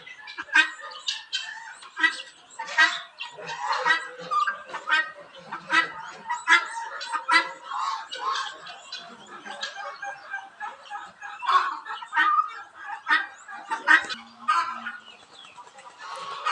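A flock of farm-kept guinea fowl (titir) calls almost nonstop at close range, with dense overlapping harsh, rattling clucks and cackles coming in uneven bursts.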